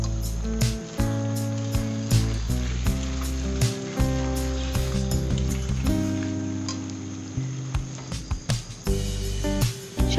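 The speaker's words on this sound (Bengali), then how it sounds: "সব মশলাগুলো ভালোভাবে কষে নেব পটলের সঙ্গে।" Pointed gourd sizzling and frying with spices, salt, coriander powder and a little sugar in a pan, a steady loud sizzle with repeated scraping and stirring clicks throughout, no talking.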